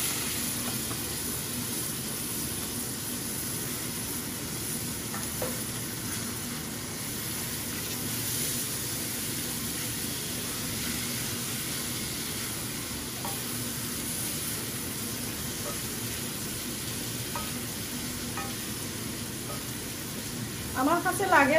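Dried fish sizzles in a small pot with cubed potatoes and spices, a steady close frying hiss with occasional stirring scrapes, and a voice speaking over it toward the end.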